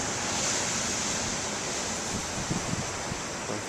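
Ocean waves breaking and washing in, a steady broadband roar of surf that holds fairly loud throughout with slight swells and no voices.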